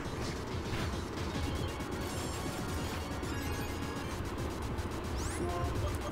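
Super Fang attack effect in the Pokemon Black 2 video game, a dense, loud burst of crashing, whacking and whooshing effects layered over game music, continuous for several seconds with no voices.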